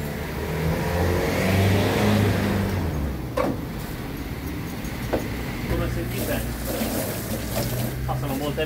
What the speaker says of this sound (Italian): passano molte macchine